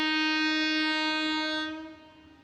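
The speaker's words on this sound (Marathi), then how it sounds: "एक जलद गाड़ी जाने वाली है" An Indian Railways express train passing a station platform sounds a long, loud, steady horn that holds for well over a second and then fades away.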